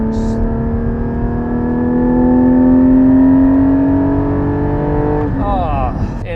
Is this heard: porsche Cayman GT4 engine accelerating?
yes